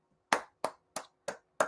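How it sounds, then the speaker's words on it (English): Five slow, evenly spaced hand claps ring out sharply and close by, each a crisp single smack with a brief decay and silence in between. "that deserves an applause."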